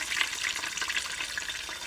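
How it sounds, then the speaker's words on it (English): Beef fat renders into tallow in a pan on a stovetop, giving a steady, close, dense sizzle and crackle that carries on without a break. "And as you can see, it's sizzling."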